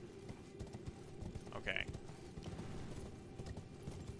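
In the Elden Ring video game, a horse's hooves clop in a steady rapid rhythm under a soft game ambience, moderately faint, and someone says a brief word partway through.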